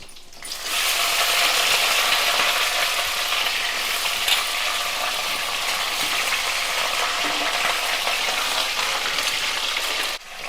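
Fresh drumstick pods go into a hot pan, and a sudden loud sizzle starts and then holds as a steady, close frying hiss with faint stirring clatter, ending abruptly.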